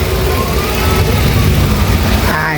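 A car engine runs steadily during an oil change, a loud, close, continuous droning rumble with no change in pitch and no talk.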